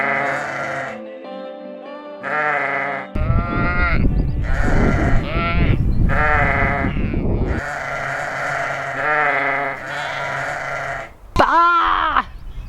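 Several sheep bleat in a noisy farm pen crowded with flock animals, loud wavering cries rising and falling one after another, with a rough low rumble of movement underneath through the middle and a sharp high bleat near the end.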